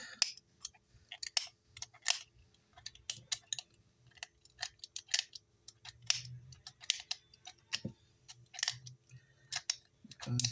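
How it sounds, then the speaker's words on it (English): A circuit board in a Taramps MD12000.1 car amplifier is scraped during a repair, producing a series of sharp, close scratching clicks in irregular bursts over a faint low hum. "I'm going to scrape it"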